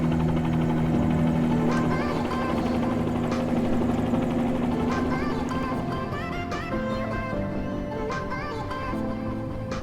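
A Bell 47G2 helicopter in Microsoft Flight Simulator flying near the Spring Mountains toward Las Vegas, a steady loud rotor and engine drone with droning tonal hum, continuous and alone.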